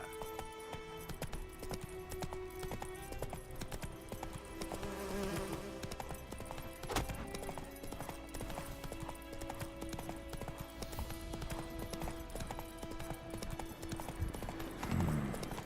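Hooves of a horse named Roach in The Witcher 3 video game clip-clop in a steady galloping rhythm under a continuous bed of music and ambience, with a brief snort near the end.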